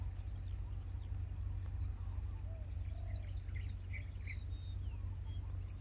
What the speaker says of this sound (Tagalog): Ay, kalapati ang dami oh.